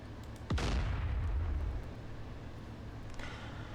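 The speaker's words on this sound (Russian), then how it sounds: "Сейчас еще раз выстрелим" A tank cannon in DCS Combined Arms fires one sharp, heavy shot whose deep boom rolls and decays over about a second, followed by quieter ambience and a faint distant thud near the end.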